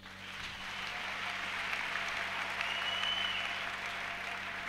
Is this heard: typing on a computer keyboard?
no